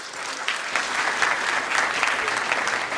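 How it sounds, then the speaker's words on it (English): An audience at the Agile Africa 2017 conference talk breaks into steady applause, a dense, even wash of many hands clapping for several seconds. "Nice round of applause for yourselves."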